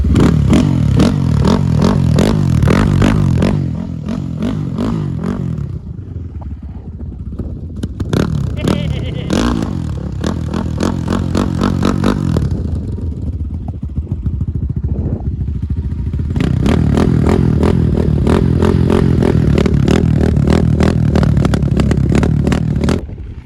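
A dirt bike engine revs and buzzes loudly up close, rising and falling in pitch with brief lulls between bursts of throttle.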